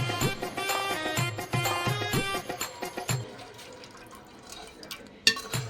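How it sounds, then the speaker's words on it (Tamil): Water is poured into a cooking pot while a mutton feast is cooked, making a close, gurgling splash with rhythmic bursts that thin into softer trickles and a final clink. "தண்ணி ஊத்தி போடுறா அதுல."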